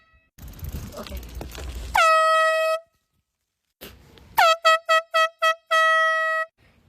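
Loud truck air horn blasts outdoors: a long low-pitched honk, then after a pause a string of short rapid toots ending in a sustained blast, with people talking faintly before the first honk.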